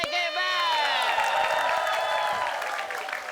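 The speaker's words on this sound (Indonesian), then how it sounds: "Kita kasih tepuk tangan untuk buat saya." Studio audience applause and cheering at a live comedy show, loud and continuous throughout, mixed with voices and whistle-like tones.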